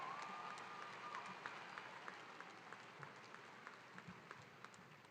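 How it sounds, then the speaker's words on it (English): Audience at a Calhoun Community College commencement ceremony applauds graduates, with a soft, distant wash of many hands clapping and scattered sharper claps popping out of the steady crowd noise. "Let's give them a round of applause for a great accomplishment."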